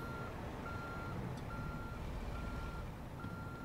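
A truck backing a 53-foot trailer in American Truck Simulator gives regular, evenly spaced reversing beeps over a steady low engine rumble, clear and moderately loud with no talking.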